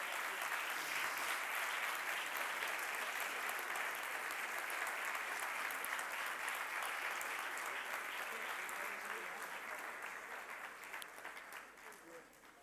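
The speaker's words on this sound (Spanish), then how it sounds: "Un fuerte aplauso para ellos." Sustained applause from a large audience at a university campus 30th anniversary closing ceremony in Gandia, Spain, dense and steady clapping that gradually fades toward the end.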